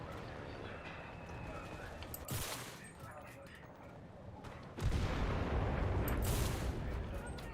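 Heavy cannon blasts in the World War II shooter Enlisted, several loud booms with rolling decay over a dense battlefield din of scattered gunfire.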